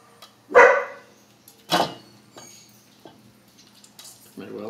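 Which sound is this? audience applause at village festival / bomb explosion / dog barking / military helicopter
dog barking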